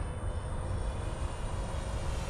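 Continuous engine drone of a small FMS radio-controlled model warplane flying nearby, a steady buzzing hum with slight fluctuations.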